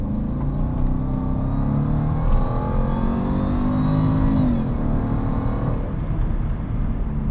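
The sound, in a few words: 2011 Jaguar XJL Supersport accelerating hard in sport mode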